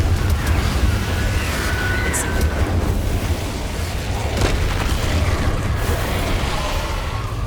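Fiery Confringo spell blasts in the video game Hogwarts Legacy, a steady run of heavy, booming explosions with a deep rumble throughout, loud and close, with some faint voice mixed underneath.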